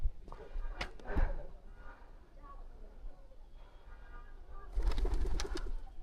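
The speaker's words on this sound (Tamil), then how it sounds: "புறாவெல்லாம் பறக்குதுங்க." Pigeons coo at a temple inside Nahargarh Fort in Jaipur, soft repeated calls at moderate distance, with someone talking over them and louder bursts of activity near the end.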